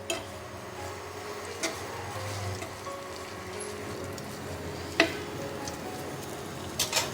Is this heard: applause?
no